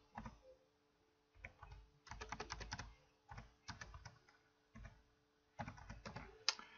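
Code being typed on a computer keyboard, quiet close key clicks in short bursts of rapid strokes separated by brief pauses, with no talk.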